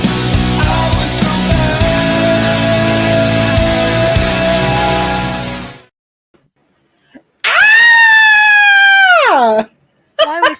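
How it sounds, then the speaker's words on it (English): Excited screaming opens a Ring of Honor wrestling post-show. A song fades out, there is a short silence, then one loud, drawn-out, high yell that slides downward in pitch before breaking off. "Sorry about the screaming."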